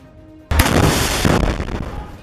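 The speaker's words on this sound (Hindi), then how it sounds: "वहां बिछा विस्फोटक फट जाता है, जिसमें एक बहुत बड़ा ब्लास्ट होता है" A large planted explosive detonates beneath a passing IDF army vehicle at Tal al-Hawa, a sudden loud blast erupting after near silence and then rumbling and crackling on for nearly two seconds.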